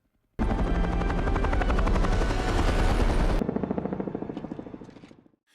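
A movie helicopter roars loudly and steadily through a prison escape scene, its rotor chop thick and close before it abruptly drops to a quieter, fading pulse near the end.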